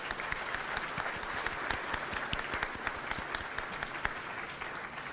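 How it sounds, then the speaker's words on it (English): A room full of people at a monthly society program applauds new members, a dense steady patter of many hands clapping at close range for several seconds with no voices over it. "Let's give them all a round of applause"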